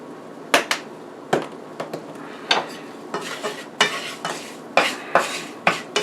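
Onion powder stirred into a gumbo roux in a pot, a spoon knocking and scraping against the pot in repeated sharp, close clacks with short gaps, no voices.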